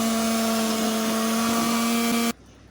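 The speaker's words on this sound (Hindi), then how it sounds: "अब एक मिक्सर की मदद से इसको हम अच्छे तरीके से इसमें चला देते हैं।" An electric hand mixer whirs steadily as it blends neem with caustic soda water into a soap mixture, a loud continuous motor hum that cuts off abruptly near the end.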